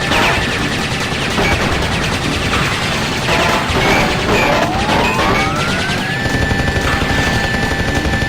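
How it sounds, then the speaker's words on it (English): A Gatling gun on a boss in Crash Bandicoot Warped fires in a long, continuous rattling stream alongside a rising siren-like whine and game music; loud and steady throughout, with no one speaking. "the Gatling gun is pretty easy to avoid"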